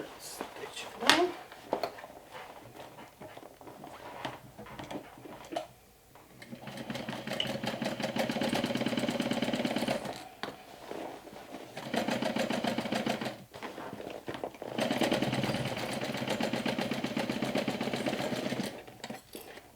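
A sewing machine stitches a backpack lining in several sustained runs separated by short pauses, with a voice talking quietly at the start and between runs.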